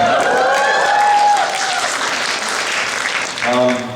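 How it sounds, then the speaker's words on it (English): A crowd claps loudly and densely at a Comic Con panel, a broad wash of applause with a voice briefly heard over it near the start and again at the end. "Thank you for your applause."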